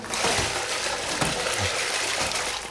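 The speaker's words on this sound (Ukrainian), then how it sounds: "насипає зерно у посудину з водою" Grain is poured into a container of water to feed a swan with pneumonia, a dense continuous rushing and pattering with scattered small impacts, close and fairly loud.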